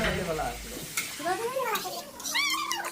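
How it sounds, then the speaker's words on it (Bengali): Curry is stirred in a cooking pot with a close scraping and sizzling sound, partly masked by high, wavering cries that rise and fall over it. "এখানে পুরো নাড়ছি"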